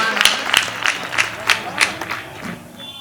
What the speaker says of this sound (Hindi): जोरदार तालियों से सुल्तान जान